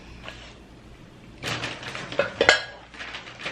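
Ceramic dishes and plates, including a big dinner plate from a microwave-safe set, clink and clatter together in a few bright knocks after a quiet start, close by with no voices.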